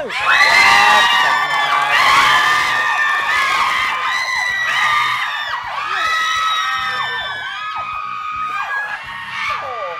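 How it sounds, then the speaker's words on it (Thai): A crowd of fans at a stage show for a Thai performer screams and cheers, high shrill shrieks and whoops bursting in repeated waves, loud and close. "ขอเสียงให้หนุ่มกังอีกสักรอบ"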